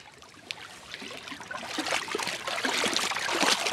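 Ice-cold water is poured over a foam hat, a trickling, splashing flow that starts faint and builds steadily louder over a few seconds, with no talk.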